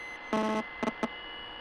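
Electronic buzzing from headphones in The Suicide of Rachel Foster: one longer harmonic buzz followed by two short bursts, fairly clear over a quiet hum.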